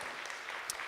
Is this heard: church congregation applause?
yes